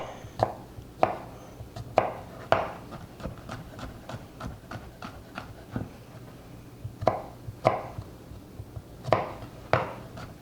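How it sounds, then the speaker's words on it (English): Knife mincing garlic on a cutting board for orange chicken, a run of crisp close chopping taps in uneven bursts, some quick and light, others heavier. "So we're going to go ahead and mince this garlic"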